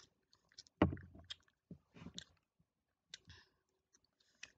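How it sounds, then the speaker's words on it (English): Close-up chewing of food, with soft wet clicks and smacks coming in irregular bursts amid quiet pauses, no talking. "Let me just finish chewing."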